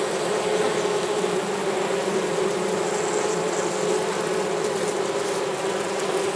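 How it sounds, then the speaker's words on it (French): A swarm of honeybees gathered with a vacuum cleaner during a rescue from a fourth-floor residence, buzzing in a dense, steady drone that stays loud and unbroken throughout, with no talking. "les abeilles récupérées à l'aspirateur"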